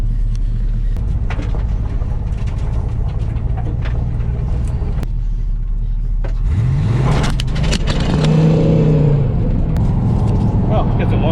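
A Pontiac Trans Am on drag slicks idles with a deep, loud rumble, then revs and accelerates hard down the road, engine pitch sweeping upward close by while people talk over it.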